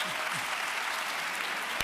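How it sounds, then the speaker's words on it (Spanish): Audience clapping after a journalism talk, a dense, even patter of applause from a seated crowd, fairly faint and continuous throughout. "Por favor, un fuerte aplauso para Marta."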